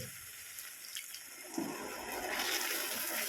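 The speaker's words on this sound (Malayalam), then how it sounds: "കുറച്ച് പുളിവെള്ളം ഒഴിച്ചു" A quiet background hiss gives way to tamarind water pouring and splashing into a pan, growing steadier and louder toward the end.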